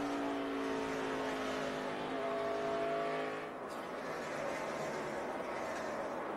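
NASCAR stock cars racing in the 2012 AdvoCare 500, a loud, steady engine roar with droning harmonic tones that shift as cars pass, then a broad rushing wash of noise.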